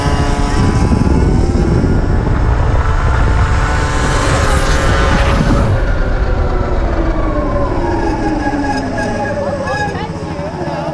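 SUR RON electric bike racing a scooter outdoors, a loud, close motor whine and wind rush that rises and shifts in pitch while the riders pass, with voices heard faintly.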